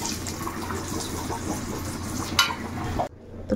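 Flat beans (sheem) frying in a pan with stirring scrapes, a steady close sizzle and broadband hiss that cut off abruptly near the end, leaving near quiet with a small clink.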